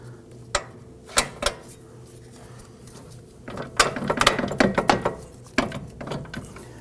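A ratchet snugs the lower bolt on a front CV axle assembly of a 2005-2009 Subaru Legacy 2.5L H4, giving scattered clicks at first, then a denser run of quick ratcheting pulls, close and alone.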